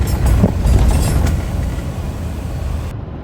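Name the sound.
Ontario rail locomotive train passing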